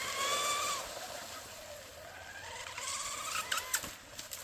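A radio-controlled rigger with a new SSS motor lets out a high, rising motor whine as it launches and pops a wheelie, followed by fainter splashing and engine bursts.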